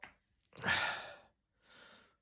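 A single sneeze, a sharp burst of breath followed by a softer exhale, close and quiet.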